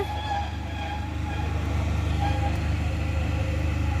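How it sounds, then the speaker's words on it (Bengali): Steady rumbling of a toy train rolling along its track in a garden in Kharagpur, continuous and fairly loud, with a faint rhythmic clatter throughout. "এখন ওই যে ট্রেন চলছে আমাদের টয় ট্রেন"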